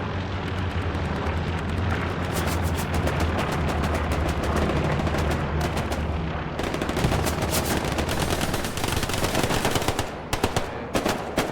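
In Hell Let Loose, a machine gun in a tower pours out long, sustained streams of automatic fire, loud and close, over a rumbling battlefield backdrop with a few closing single cracks.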